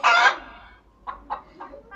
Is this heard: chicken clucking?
yes